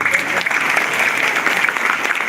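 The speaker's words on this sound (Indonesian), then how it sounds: "Tepuk tangan dulu buat ibu-ibu." Applause from a crowd of women at an Islamic religious talk in West Lampung, a steady dense clapping that carries evenly through the whole stretch, with some voices mixed in.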